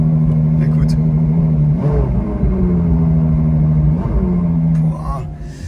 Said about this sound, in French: C'est un bruit, mais quel bruit ce V12 Ferrari.